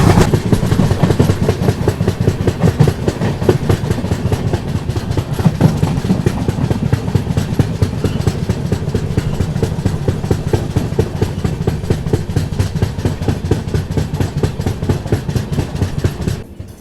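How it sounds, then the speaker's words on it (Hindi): The Pune–Kanniyakumari Jayanti Janata Express rolls into Kanyakumari station, its railcars clattering steadily over the track joints with a low engine rumble, loud and close throughout. "यहाँ पर अभी अपनी पुणे कन्याकुमारी जयंती जनता एक्सप्रेस एंटर हो रही है भारतीय रेलवे के आखिरी सदन छोर के रेलवे स्टेशन पर"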